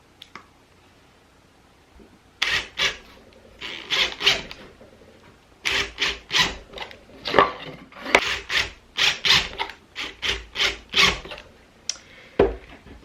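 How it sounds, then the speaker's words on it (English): 1.5-inch screws being driven into triangular wooden pieces, heard up close as a series of short grinding, rasping bursts in irregular clusters with brief gaps between them. "I'm simply going to be screwing these triangular pieces on from the top side here."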